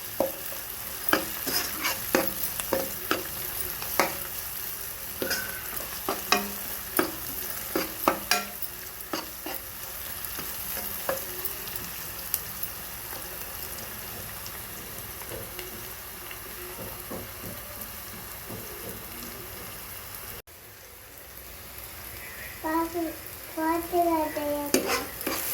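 Chopped tomato and onion frying in a pan, stirred again and again, give a steady sizzle broken by repeated scraping and clinks of the spoon against the metal, close and clear, with no talking.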